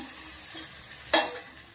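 A Rajasthani onion and cream (pyaz malai) curry cooks in a pan, a soft steady sizzle broken by one sharp metallic clink and scrape partway through, close and without speech.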